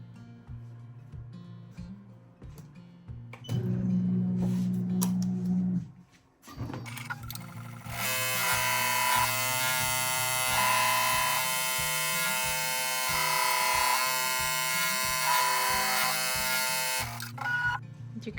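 An embroidery machine stitches an in-the-hoop zip bag, its needle buzzing in a fast steady drone, first in a short run and then in a longer, louder sustained stretch, close and without speech.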